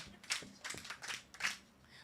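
Children clapping for a woman reader at a Mothers' Day read-aloud event in a retail centre, a short burst of scattered claps of uneven rhythm, moderately close, with no talk over them.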